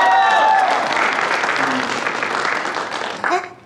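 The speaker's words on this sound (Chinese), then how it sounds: "大家掌声鼓励！" A crowd applauds loudly at a celebration for a gold record award in the Asia-Pacific region. The dense clapping fades slightly toward the end, with brief cheering voices.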